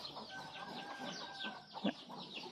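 Chickens cluck softly around a rural Thai village home, with short scattered calls over a steady background and one louder burst near the end.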